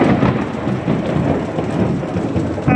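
Thunder rumbles through a thunderstorm over steady heavy rain, a dense continuous roar that swells and settles without pause, loud and close, with no voices.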